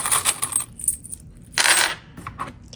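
Small metal zipper heads clink and rattle as they are handled and lifted out of a little drawer in a sewing workspace, giving a few bright, close jingles with a denser burst partway through.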